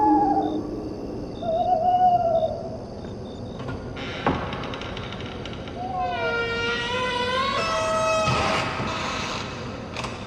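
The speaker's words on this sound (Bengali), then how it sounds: "চারিদিকে নিশাচর পাখি ও ঝিঝির ডাকে চারিদিক" Night-time ambience for a spooky audio story: hooting and whistling calls of nocturnal birds rising and falling over a steady hissing bed of insects, with a sweeping chorus of calls building midway and continuing to the end.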